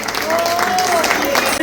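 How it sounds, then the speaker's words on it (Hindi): Audience applauding after a Bharatanatyam classical Indian dance performance, steady continuous clapping from a crowd, fairly loud throughout the short stretch, with a faint voice mixed in. "इसके लिए तो जोरदार तालियां बनती हैं"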